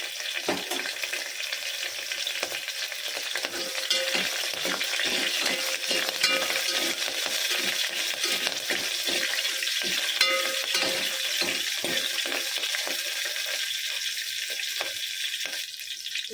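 Cut green chillies frying in oil in a pan, a continuous close sizzle with soft scraping and stirring clicks running throughout, no voices.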